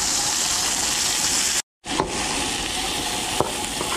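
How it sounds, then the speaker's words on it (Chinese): An eel fries slowly in a pan over low heat, giving a steady, close hiss of sizzling oil that cuts out for a moment, then resumes with a few faint clicks. "小火慢煎，我翻个面"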